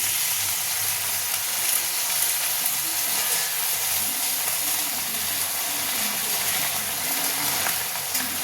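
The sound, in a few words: chili chicken sizzling in pan as soy sauce is added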